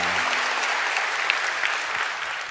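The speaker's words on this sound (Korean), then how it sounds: "우리 박수로 축복하고 격려하겠습니다" A church congregation applauds after a Saturday worship singing team performs, a steady, even wash of clapping from a crowd, alone and fairly close.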